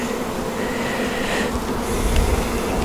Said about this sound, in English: Lots of drones, they fool you when you're looking for the queen.